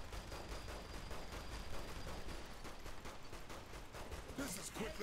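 Rapid gunfire in the video game Saints Row: The Third crackles as a steady stream of quick, evenly spaced shots over a few seconds, faint and mixed with game noise.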